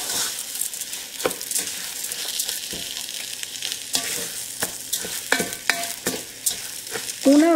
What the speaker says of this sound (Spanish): vamos a adicionar las 2 tazas de arroz. Revolvemos hasta que se integren.